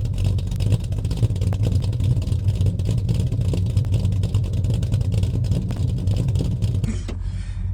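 Ford Falcon XB coupe under way, its engine droning loud and close from inside the cabin with steady road rumble, then easing off near the end as a gear change begins.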